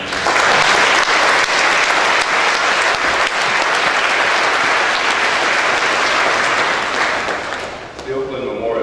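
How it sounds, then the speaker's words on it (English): A convocation audience at a Founders Day ceremony applauds award recipients, a loud, full roomful of clapping that stays steady for about seven seconds, then fades as a voice begins speaking over the tail. "Let's give them a round of applause."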